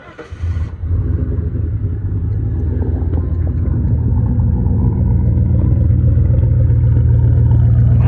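A 1990s Lincoln Town Car set up for autocross cranks briefly and fires, then settles into a loud, steady, low rumbling idle close by, with no talk over it.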